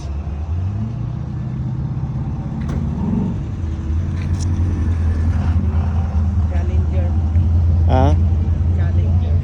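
Classic cars idle at an evening cruise night in Red Deer, a steady low engine rumble filling the outdoor scene while a person talks over it.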